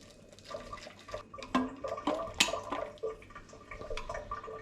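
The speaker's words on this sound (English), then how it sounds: "the sink is like making drainy noises" Water gurgles and trickles down a sink drain, with uneven bubbling and splashy spurts close by, no one talking.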